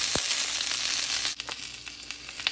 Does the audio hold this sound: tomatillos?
yes